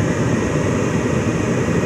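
Main blower on a Rheem Criterion gas furnace runs with a steady, loud rushing drone of moving air and a low rumble, continuous and unchanging with no voices.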